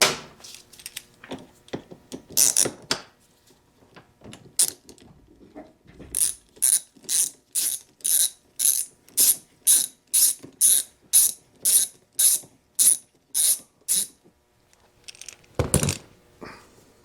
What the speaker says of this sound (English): Goes my ratchet.